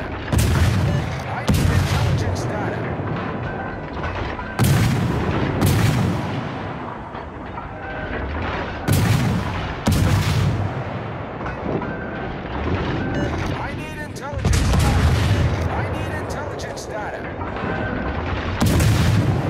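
Heavy naval artillery salvos in the World of Warships video game, a string of loud booming blasts every few seconds, each followed by a rumbling roar and decaying rumble, with voices talking under the barrage.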